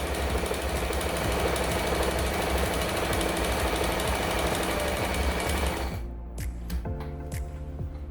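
A Janome 392 sewing machine runs a zigzag stitch with a fast, steady mechanical chatter, close and continuous, then stops near the end, leaving a few separate clicks and taps.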